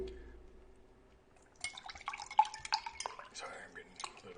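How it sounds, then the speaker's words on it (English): Water pouring and trickling into a container on a desk during an online hangout, faint and close, with light clinks of dishes in a quiet room. "I'm getting a little bit of water"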